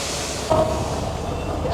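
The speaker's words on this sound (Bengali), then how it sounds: "7:40-এ আমাদের ট্রেন ছেড়ে দিছে।" The Rupsi Bangla Express pulls out of a station in Dhaka, producing a steady, broad rumble of rolling rail wagons with a constant hiss and a brief brighter squeal partway through.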